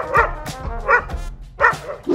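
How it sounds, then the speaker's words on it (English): Dogs bark in three loud, close bursts spaced about half a second apart, with yips and softer whines between them. "These dogs' barks are significantly worse than their non-existent bites."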